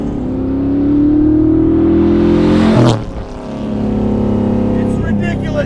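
A 600 HP 1972 Corvette autocrosser engine heard from inside the cabin, loud and droning as it climbs in pitch, cuts briefly on a shift, then pulls again, with a voice talking under the noise.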